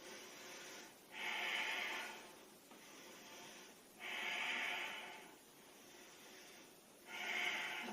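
Slow, steady breaths drawn in a downward dog yoga pose, three long soft airy swells spaced evenly, each rising and fading alone without talk.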